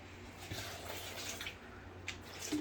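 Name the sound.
water being poured into a blender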